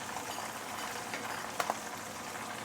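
Prawns deep frying in hot oil give a faint, steady bubbling sizzle with a couple of brief crackling pops partway through.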